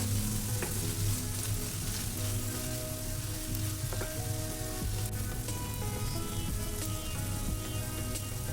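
Okra stir-fry vegetables with Schezwan sauce sizzle steadily in a pan while being mixed, a constant crackling hiss with occasional scraping taps from the stirring, moderately close.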